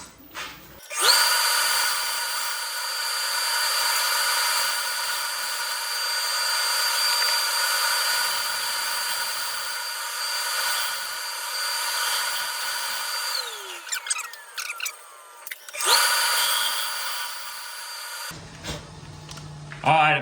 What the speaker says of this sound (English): go a little smaller on my scraper so I can get into that transition to the bottom